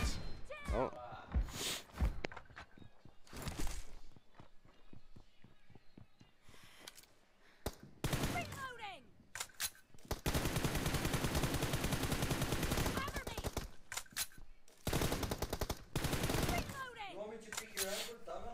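Rapid automatic gunfire bursts from the mobile battle-royale game PUBG Mobile, played in a practice session: sharp repeated shots in long and short bursts, interleaved with a player talking between them.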